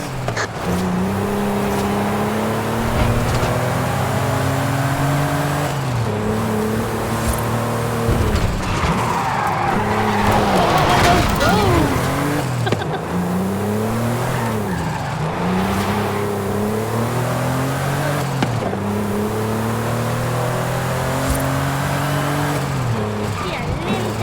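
A race car driven hard in Forza Horizon 5, the engine revving up and down through repeated shifts, with a burst of tire squeal and skidding partway through, close and loud throughout.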